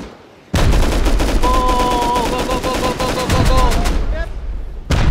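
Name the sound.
gunfire in a video game raid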